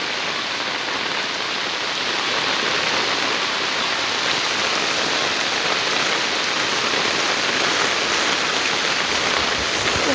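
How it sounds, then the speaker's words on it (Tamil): Heavy rain pours steadily in Jaffna without thunder or wind, a dense, even hiss of drops on surfaces that stays loud and unbroken throughout, with no one talking. "நல்ல ஒரு மழை ஒன்று வருகிறது"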